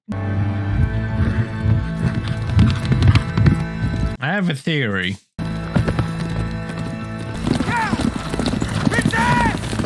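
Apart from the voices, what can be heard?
horse galloping in TV show House of the Dragon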